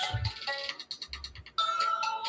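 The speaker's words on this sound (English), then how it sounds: "I'm getting a phone call from Joffrey." Phone ringtone from an incoming call: a repeating electronic melody of bright, chiming notes plays steadily for a couple of seconds, close and clear with no voices over it.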